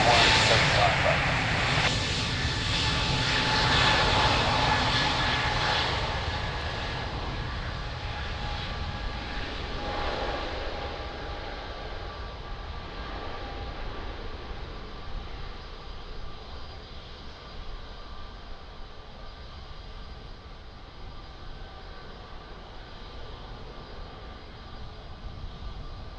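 An airplane at Lisbon Airport, its engine roar loud at the start and fading steadily into a distant rumble, with radio talk heard faintly at times.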